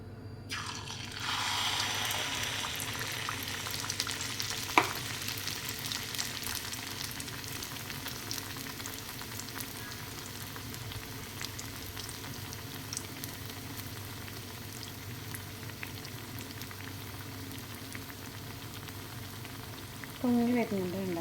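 Muttayappam batter fries in hot oil, a steady bubbling sizzle with a sharp knock early on and a louder burst of frying near the end as more batter goes in.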